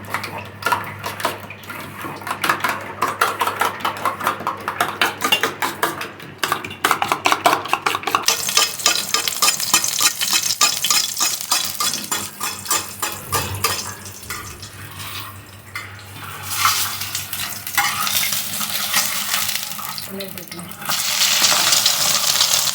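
Eggs frying in a pan during a Ramadan sehri meal, a loud continuous crackling sizzle with rapid spattering, close by, shifting to a hissier wash of frying toward the end, no talk.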